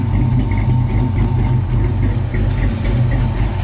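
A 1994 Ford Mustang GT with an aftermarket cam idles loudly and close by, its low, lumpy exhaust rumble pulsing steadily and continuously with no voices over it.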